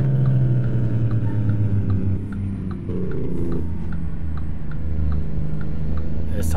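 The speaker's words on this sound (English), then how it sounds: "Or engine brake, however you guys want to call it." A Kenworth W900 heavy-haul truck with a 1088 hp Cummins engine on its engine brake, a loud, continuous low rumbling drone that dips briefly in the middle, heard up close on a special transport run.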